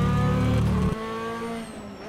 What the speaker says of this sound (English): There's a race car, watch out!